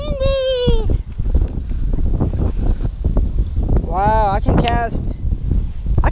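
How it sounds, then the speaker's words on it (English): Strong wind buffeting an outdoor spot while bass fishing in Broken Arrow, Oklahoma, a steady rumbling gust noise on the microphone beneath excited talking voices. "It's pretty windy out there."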